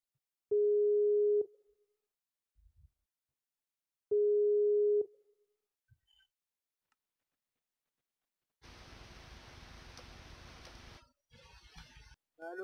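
Two long steady telephone ringback tones, each about a second, sound while a call is placed, separated by silence and a few faint clicks, followed later by a burst of broadband hiss and noise.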